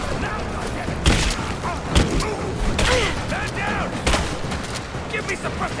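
Gunfire from a firefight in Rise of the Tomb Raider, with several loud sharp shots at uneven intervals over a steady noisy backdrop and occasional talk.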